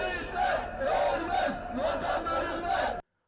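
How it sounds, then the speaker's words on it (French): An angry pro-Erdogan crowd loudly boos and jeers the accused as they are escorted past, a dense sustained roar of massed voices that swells in waves and then cuts off abruptly. "Ils sont hués par la foule."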